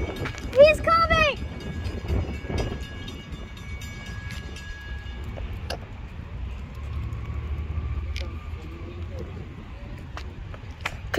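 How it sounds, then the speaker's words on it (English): A train rumbles past at a distance with a low continuous roar, while brief squeals ring out and voices speak near the microphone. "Good God, a train."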